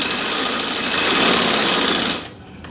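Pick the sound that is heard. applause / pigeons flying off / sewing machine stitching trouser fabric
sewing machine stitching trouser fabric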